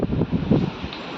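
Outdoor wind buffeting the microphone in low rumbling gusts, loud and close, with faint rustling behind it and no speech.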